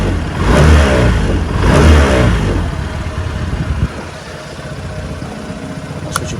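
A 2022 Honda Forza 125 scooter engine runs close by, with two strong revving swells early on that settle into a steadier idle with no talking.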